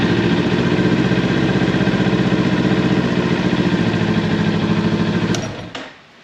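A 2020 Kawasaki Ninja 400 motorcycle engine idles loudly and steadily up close with an even throbbing rhythm after an oil and filter change, then shuts off and falls quiet at the end.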